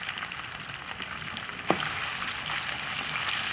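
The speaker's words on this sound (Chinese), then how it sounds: "把肥肉下锅。" Pork belly fat dropped into a hot wok gives a constant crackling fry, with one sharp clink from the pan partway through. No one speaks.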